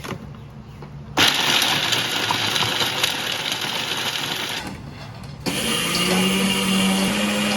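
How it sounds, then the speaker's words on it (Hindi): An electric chopper whirs loudly as it chops whole fox nuts (makhana), running in two bursts with a brief pause between, a steady high motor buzz with rattling pieces inside. "अब इसमें ना फुल मखाने चॉपर में चॉप करने लगे"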